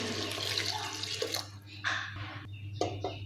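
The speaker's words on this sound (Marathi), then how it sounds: "इथे मी दोन वाट्या भरून गरम पाणी ओतत आहे" Hot water is poured from a bowl into a pressure cooker holding rice for masala bhat. The water runs in a few short, close splashing bursts over a steady background hum.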